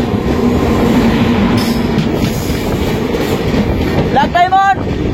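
A train rumbles along loudly, heard from the open door of a moving third-AC passenger express between Howrah and Raxaul, a steady roar with a brief squeal or horn-like tone near the end.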